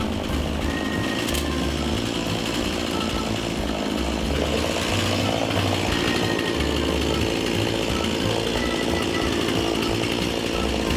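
Chainsaw cutting through a wooden log to make an anvil base, a loud continuous engine roar with steady chatter under load, running alone for the full length.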